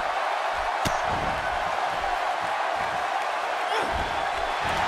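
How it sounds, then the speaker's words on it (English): A packed wrestling arena crowd in Phoenix roars and cheers as a steady, dense wash of noise throughout, with a couple of sharper shouts or thumps rising briefly above it. "It certainly sounds like this Phoenix crowd is pumped up to be a part of this card here tonight."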